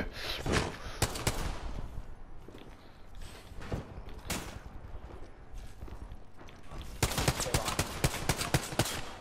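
Gunfire in the battle royale game Apex Legends comes as scattered sharp shots and short bursts, a dense rapid volley near the end, close and loud over constant game noise.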